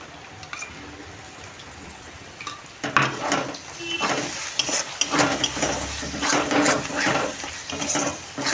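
Masala spices frying in oil with sour yogurt for Bengali doi katla, a steady sizzle that grows louder as a spoon scrapes and stirs the pan repeatedly.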